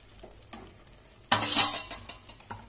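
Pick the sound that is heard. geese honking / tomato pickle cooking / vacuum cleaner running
tomato pickle cooking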